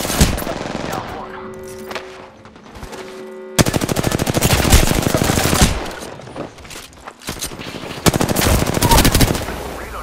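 Rapid automatic gunfire in the video game Apex Legends, loud sustained bursts of close shots with brief gaps between strings, with voices speaking underneath.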